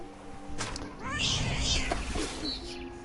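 A cat meows in the video game What Remains of Edith Finch, a couple of short, high cries heard alongside a steady low hum and background game sounds.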